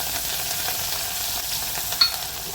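Curry leaves, garlic and chili dropped into hot tempering oil with fenugreek and asafoetida, a steady close sizzle and crackle with light stirring and a small pop near the end, no talking.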